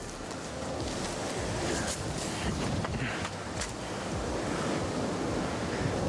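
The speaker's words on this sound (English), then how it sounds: "All right, pretty stiff crossing wind here." Stiff crosswind blowing across an outdoor disc golf course at Brock Park, a steady, loud rushing roar with buffeting on the microphone that continues without a break and no speech.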